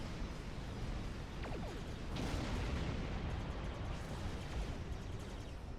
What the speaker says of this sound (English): Oh, we still have our phasers going here.